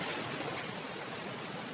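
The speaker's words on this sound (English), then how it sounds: "Another waterfall." Steady broadband rushing of a waterfall in the video game Uncharted: The Lost Legacy, a continuous even roar filling the whole moment with no other sounds on top.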